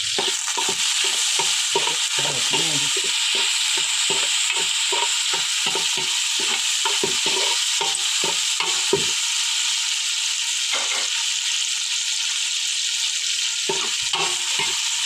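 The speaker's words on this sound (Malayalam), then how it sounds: "ഇനി കീറിയ പച്ചമുളക് ഇട്ട് കൊടുക്കാം" Slit green chillies sizzle steadily in hot oil in a pan on a stove, with a continuous loud frying hiss broken by repeated scraping stirs of a utensil, densest through the first nine seconds.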